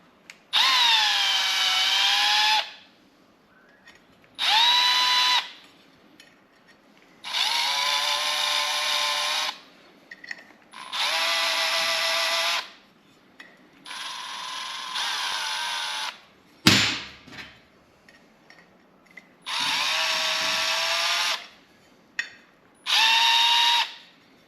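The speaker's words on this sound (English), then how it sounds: "now we've just got to deburr the holes" Power deburring tool working drilled holes in metal for a Triumph Thunderbird motorcycle tail part: repeated loud whining bursts of a few seconds each, separated by short pauses and a clunk of handling.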